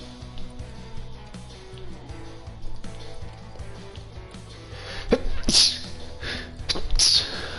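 A sneeze cuts sharply through the low hum and clatter of a tank restoration workshop game, a sudden loud burst, followed by a second similar burst about a second and a half later.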